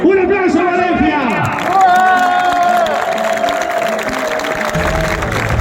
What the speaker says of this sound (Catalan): ¡Un aplauso a Valencia!